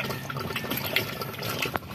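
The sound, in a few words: water gurgling through a hose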